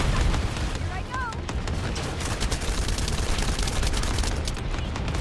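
Dense, continuous gunfire and blasts rumble through a boss fight against Gluttony in a video game, with steady loud bursts and a brief chirping effect under a voice speaking.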